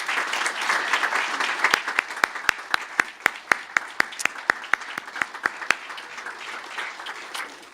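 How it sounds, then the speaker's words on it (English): An audience applauds at a 2018 Graduate School of Biomedical Sciences commencement ceremony: sustained crowd clapping, with a run of sharp, regular individual claps standing out close by in the middle. "So let's give them a round of applause."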